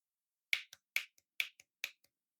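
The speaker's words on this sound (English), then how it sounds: "I'm going to be clapping my fingers." Four crisp finger snaps, evenly spaced about half a second apart, each followed by a faint softer echo-like click, close and dry against silence, recorded for an AI-generated game music track.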